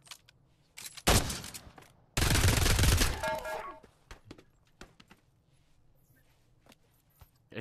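Scout sniper rifle fire in the VR shooter Pavlov: a loud near crack followed by a sustained burst of rapid gunfire, then scattered fainter shots and clicks trailing off.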